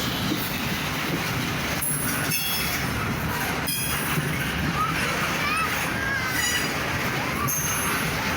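A CSX freight train with tank cars rolls past Woodbourne station, wheels clacking over rail joints and squealing in high, shifting tones, loud and close throughout.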